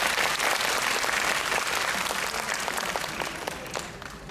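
An audience applauds at a birthday charity event, a dense, loud wash of many hands clapping steadily and fading slightly toward the end.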